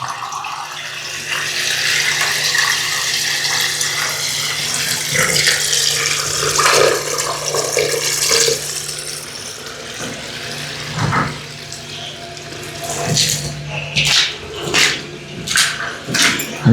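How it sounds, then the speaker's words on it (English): Water rushes steadily across the floor of a flooded apartment sprinkler room, a loud continuous hiss and splash. Sharper splashes and clatter pick up near the end. "you guys can see the water's coming over here."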